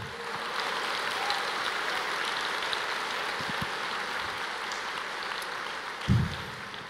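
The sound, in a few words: church congregation applauding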